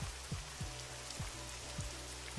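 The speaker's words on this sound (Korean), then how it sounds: "오후가 되어서는 스콜성 폭우가 쏟아지기 시작했어요" Heavy tropical squall rain pours down in Bangkok, a steady dense hiss of drops with repeated low thuds of water striking a surface, continuous and close.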